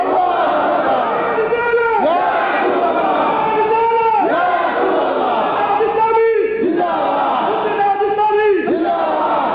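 A large gathering at an Islamic sermon answers in unison with loud chanted takbir calls, repeated in rhythmic waves of massed voices, each surge rising and falling together through a loudspeaker-style sound.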